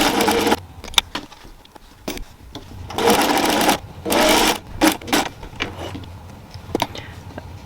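A sewing machine fitted with a walking foot stitches a quilted pot holder in loud, close bursts of rapid whirring, broken by short pauses and a few clicks between runs.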